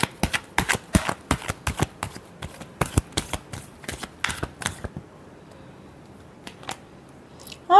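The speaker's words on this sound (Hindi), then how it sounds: "last shuffle" Tarot cards being shuffled in a run of crisp, rapid riffling bursts for about five seconds, followed by near silence with a few faint taps and a sharp sound at the very end.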